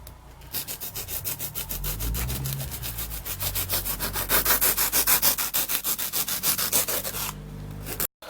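Steady rhythmic rasping and scraping of a blade sawing back and forth through cured expanding foam in a Transit campervan conversion, loud and close throughout with no talk.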